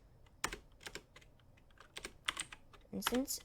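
Computer keyboard typing code in Roblox Studio, quiet scattered keystrokes in irregular clusters, close and soft, with occasional louder taps near the end.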